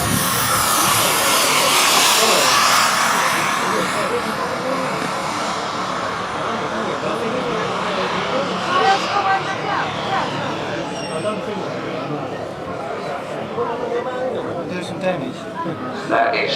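A large model Airbus jet powered by two AMT Mercury turbine engines, about 45 pounds of thrust each, flying at an outdoor show in Beltring, Kent, England: a continuous jet roar passing overhead beneath a commentator's voice.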